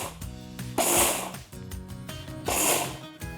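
A kitchen mixer grinder pulsed in two loud bursts as roasted grains are broken into coarse semolina, each burst a harsh whirring roar with a pause between, close and alone.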